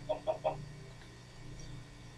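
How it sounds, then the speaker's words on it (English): Three quick, faint clucks from chickens in the Minecraft video game, in a short burst at the start followed by quiet background. "Oh my goodness, you chickens are so ridiculous."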